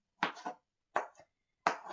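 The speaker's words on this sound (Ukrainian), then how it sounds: "Овочі я трошки подрібню перед тим, як я буду їх блендерити." A knife chops through vegetables for pumpkin soup on a board, three separate pairs of quick crisp cuts with short pauses between, close by.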